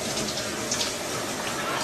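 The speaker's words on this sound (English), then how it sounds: "I can turn the water off." Water runs steadily from a shower tap, a close, continuous rushing hiss with slight splashing and no talk over it.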